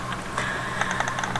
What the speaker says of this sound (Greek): Κλικάρω, click to save, κλικάρω.